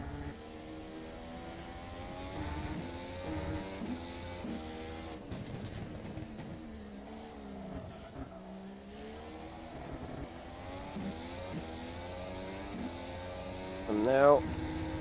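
A race car engine laps Silverstone in the racing game rFactor 2, its revs climbing and dropping through gear changes at moderate level while someone talks over it throughout.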